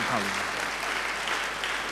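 Dense, steady applause from a church congregation claps throughout, with a brief voice faintly audible at the very start.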